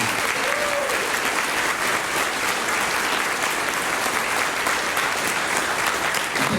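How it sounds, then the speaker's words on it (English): Sustained audience applause at a congressional debate, honoring Republican candidates for a district seat; steady, dense clapping from a crowd fills the whole stretch at full level. "Let's have a round of applause for this team."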